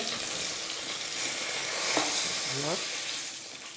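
Koi fish frying in oil on low heat, a steady broad sizzle and crackle running throughout at moderate level, with a couple of brief clinks and scraping noises as pieces are lifted from the pan.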